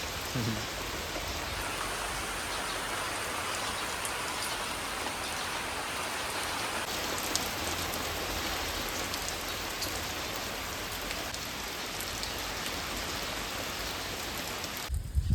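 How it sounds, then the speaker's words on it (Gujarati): Heavy rain with wind in a village, a dense, steady roar of drops on surfaces that continues unbroken and loud throughout with no voices. "ફૂલ વરસાદ આવ્યો ફૂલ પવન સાથે"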